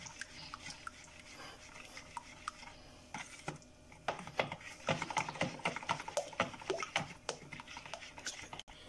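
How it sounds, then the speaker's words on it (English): Chilli sauce mixture stirred by hand in a bowl, giving irregular scraping and knocking strokes that grow busier and louder in the second half, close by with no talk. "so you want to be stirring it like this"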